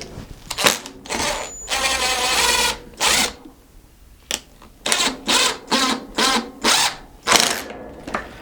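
A power drill drives screws into a farmhouse trash cabinet in short repeated whirring bursts with ratcheting clutch clicks, close and fairly loud, with little talk.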